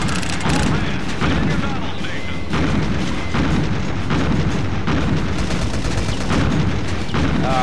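Rapid, loud bursts from anti-aircraft gun turrets pound continuously in the naval combat game Pacific Gunner, a dense, relentless barrage with booming impacts throughout, while a player talks over it.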